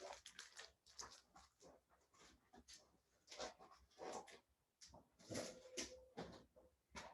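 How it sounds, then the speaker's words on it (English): A small dog whimpers and snuffles at very low volume, a string of soft, uneven whines and sniffs heard close by with no talk over it. "I have a cute little dog."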